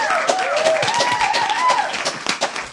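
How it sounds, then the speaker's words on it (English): Applause for a guest on a cardistry podcast, light and thin, mixed with a voice and a whistling tone running through it. "So big welcome, applause to him"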